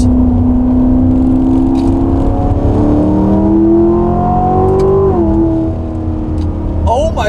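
A loud C7 Corvette accelerates hard through mountain corners, its engine note climbing steadily in pitch and holding strong and close throughout, with a brief dip before it rises again near the end.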